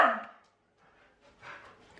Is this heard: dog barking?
yes